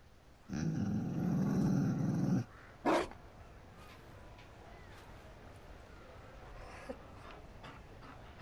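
A Mabari war dog from the Dragon Age: Inquisition video game lets out a close, rough two-second growl and pant, then a brief huff, and only a faint low ambience follows.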